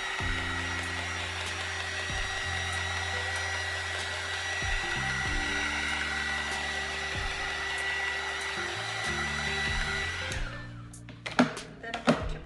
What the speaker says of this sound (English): Just going to use my heat gun to get some cells.